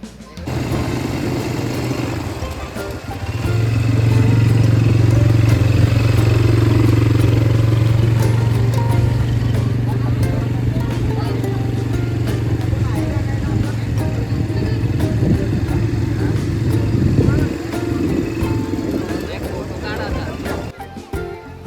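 Motorbikes riding past during a lively outdoor gathering in Konkan, a sustained loud engine drone swelling and holding with rough clatter, mixed with crowd noise and voices throughout.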